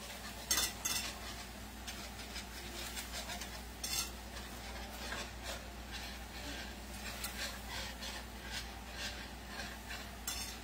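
Gravy made from ham grease being whisked in a pan, quiet rhythmic scraping and clinking of a whisk against the metal, soft and close with no talk.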